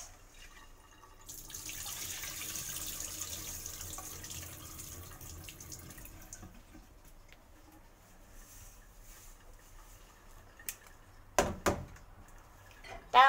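Tap water runs while rice is rinsed for a lechon kawali dish, a soft hiss of steady flow for several seconds, followed by quiet and a few sharp knocks near the end.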